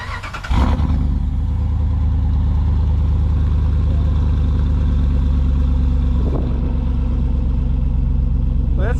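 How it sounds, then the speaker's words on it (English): A 2017 RAM 1500 pickup engine cranks and catches, then settles into a loud, steady low rumble at idle that runs to the end, with voices heard faintly alongside. "he's gonna fire the truck up, and we're gonna see how it's working here"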